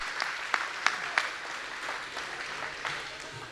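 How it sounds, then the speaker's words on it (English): At a business awards celebration, a fairly faint round of applause rises from the audience, with a few sharper individual claps standing out from the softer patter. "Please give them a warm round of applause"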